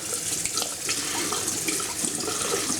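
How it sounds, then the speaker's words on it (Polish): Tap water runs steadily over chopped onion in a kitchen sieve, a continuous close splashing hiss with no pauses and no voices. "No więc wlewam do niej wodę, przerzucam na sitko"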